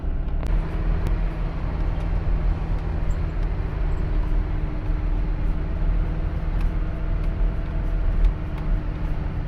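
A VW Squareback climbs a grade at full throttle, its engine giving a steady, strained drone with road and wind noise throughout and no change in pitch.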